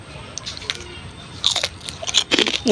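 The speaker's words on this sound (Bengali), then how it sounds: "এই এখন মুড়ি খাচ্ছি" Someone eating puffed rice (muri) with fried eggplant fritters, giving sporadic crunchy bites and chewing crackles, close and fairly loud, with a few denser bursts later on and no talking.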